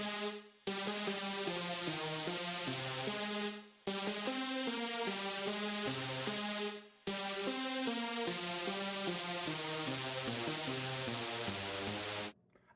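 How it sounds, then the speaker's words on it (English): A detuned saw lead from a Serum synth plays a bright, buzzy melody in three sustained phrases, each cut off by brief gaps, loud and up front with no voices. "this lead turns into a detuned saw from Serum that sounds like this."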